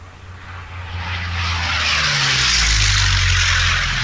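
Roaring piston engine of a P-40C fighter plane of about 1100 to 1200 horsepower in the IL-2 flight sim, a steady loud drone with a low rumble that swells and grows fuller over the four seconds, no talk.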